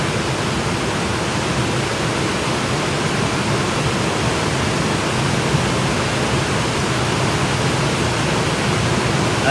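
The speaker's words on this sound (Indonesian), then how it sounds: "Kita berada di pinggir sungai Amazon." Water of the Amazon River flowing past the riverbank, a loud, steady, unbroken rushing hiss that fills the whole stretch with no voices over it.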